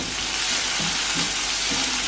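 Chopped onion and plenty of curry leaves fry in hot coconut oil for a chicken roast, giving a steady, loud, close sizzle with faint stirring pulses underneath.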